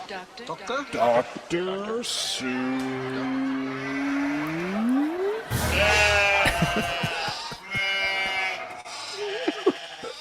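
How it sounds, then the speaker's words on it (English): Goats bleat in a played sound stinger on a live talk show, several wavering, rising bleats layered over music and bouncing thumps, with people talking around them. "I don't know why there's goats at the end."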